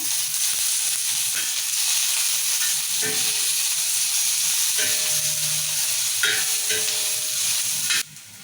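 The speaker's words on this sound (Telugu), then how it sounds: "ఇక ఇదే పెంక మీద కొంచెం ఒక చుక్క నూనె వేసుకుందాము మిరపకాయలు వేసుకుందాం ఇక ఒక టమాటా వేసుకుందాం" Chillies and a small tomato fry in a drop of oil on a pan, giving a loud, steady sizzle with stirring scrapes throughout that cuts off abruptly near the end.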